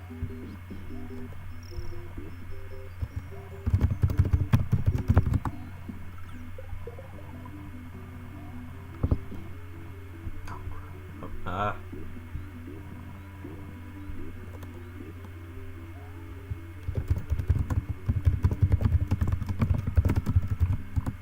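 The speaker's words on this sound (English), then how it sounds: "sorry about the typing there, guys" Rapid clicks of a computer keyboard come in bursts, loudest early and near the end, over a constant electrical hum and background game sounds.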